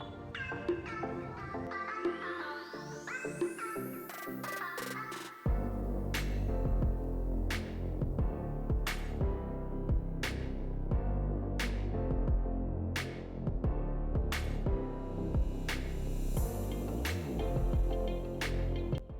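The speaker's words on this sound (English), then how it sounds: "I have fixed the blade. Some noises from the frame because of loose fit" A Crompton Drift Air Plus 12-inch exhaust fan running, with a steady motor hum and throb and repeated rattling knocks from its loosely fitted frame, after a rising whine at start-up.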